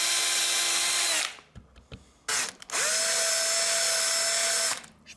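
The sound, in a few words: drilling string hole through ebony violin peg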